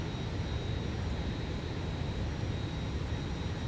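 Steady, even roar of a JustFlight F-28 airliner's jet engines in flight in a flight simulator game, a continuous broadband drone with a faint high whine, heard alone.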